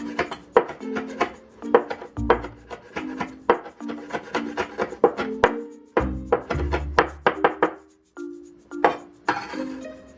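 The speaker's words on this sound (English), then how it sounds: "And we'll just mince this also." Knife mincing ingredients on a wooden cutting board for a stir-fry of leaf tripe with spicy pickled mustard: quick, close tapping chops in bursts with short pauses, some heavier thuds, no talk.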